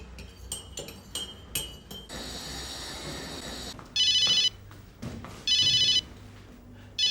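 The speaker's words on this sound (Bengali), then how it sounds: "শিলা 1 মিনিট, আমি জাস্ট ফোনটা সেরে আসি।" A telephone rings in a home, two bursts of electronic ringtone, with glass and cutlery clinks and soft footsteps around them.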